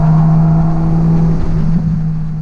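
A car driven on the Silverstone race track during a track day, its engine droning loud and close with a steady hum, rising slightly in pitch before easing off.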